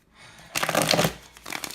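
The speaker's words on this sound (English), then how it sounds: "So we're just going to shuffle it a few times, couple of 3 times." A Deviant Moon tarot deck is shuffled close up in a quick riffling burst of papery card flicks, then a softer second patter of shuffling follows after a short pause.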